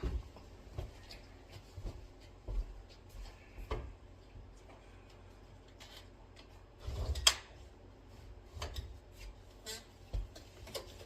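A window is opened late at night indoors: scattered faint knocks, clicks and a louder scrape and thump near seven seconds, with quiet pauses between.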